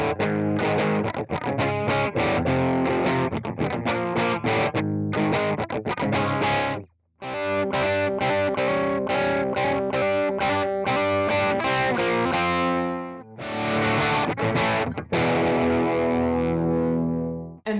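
Distorted electric guitar through the crunch model of a Yamaha THR10 practice amp, crunchy overdriven tone playing chords and riffs continuously, briefly stopping once before resuming at full volume.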